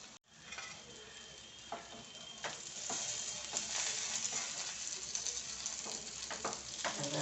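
Stuffed green chillies fry in a pan over medium heat, giving a steady close crackling sizzle that builds slightly and continues throughout, with faint stirring scrapes and no talk.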